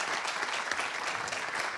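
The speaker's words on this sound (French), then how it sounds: "Oui, on peut vous applaudir évidemment." An audience claps at an energy conference panel, with dense, even applause that holds steady throughout a short stretch.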